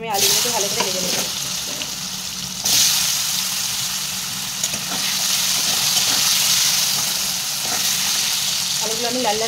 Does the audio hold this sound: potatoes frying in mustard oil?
yes